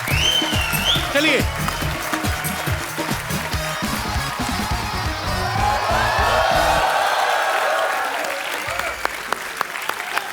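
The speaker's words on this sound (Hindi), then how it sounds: "जोरदार तालियां शाहरुख भाई और आलिया के लिए।" A studio audience on a Hindi TV comedy talk show breaks into loud applause and cheering, with a host's voice speaking over the clapping that continues steadily.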